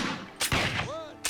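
A volley of gunfire in a TV drama, with sharp loud shots near the start and end amid dense battle noise, and a rising whistling tone between them.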